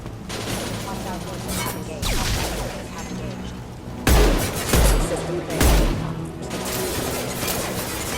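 Gunfire in the video game Mass Effect 2, with bursts of rapid shots and several heavy booming impacts amid constant loud battle noise, and voices speaking over the fighting.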